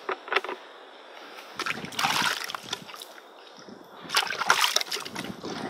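Water splashes and sloshes in a few separate bursts as a sculling oar handle is washed off, with quieter trickling between the louder splashes.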